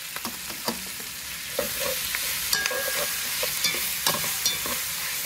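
Tomato goes into onions frying in a pan and is stirred, a steady close sizzle with repeated scraping spoon strokes and small clinks throughout, no voices.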